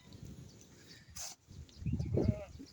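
A single sheep from a shepherd's flock bleats nearby near the end, preceded by faint rustling and a short sharp noise in an otherwise quiet outdoor setting.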